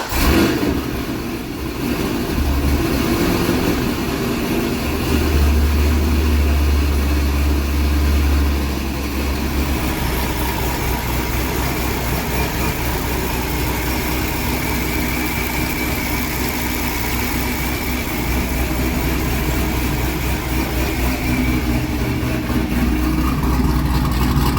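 A supercharged C6 Corvette engine cranks, catches and settles into a loud, close, steady idle with a throbbing low rumble and a few slight rises in revs.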